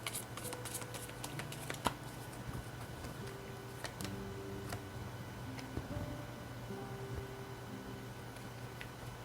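Tarot cards being shuffled, a quiet continuous riffling and slapping of cards with soft ticks, close and alone over a faint steady hum.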